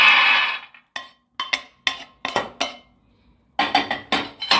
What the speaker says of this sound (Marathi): आता आपण काढून घेऊ शेंगदाणे।